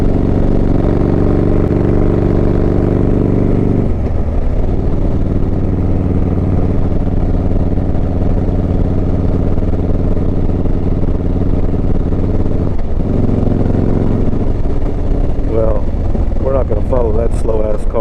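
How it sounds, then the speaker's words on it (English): Motorcycle exhaust roars steadily from the rider's position while cruising through North Texas, a loud, continuous engine drone with wind rush, shifting pitch as the bike changes speed. "not sure if the people can hear my exhaust all that well, but I sure can hear it."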